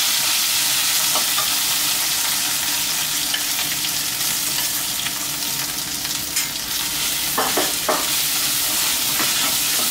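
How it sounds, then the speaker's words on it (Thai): Thai red curry paste with pork ribs stir-fried in a pan, giving a steady, loud, close sizzle throughout with intermittent scraping and clinking of a spatula. "เราจะผัดให้เครื่องแกงหอมก่อนนะครับ"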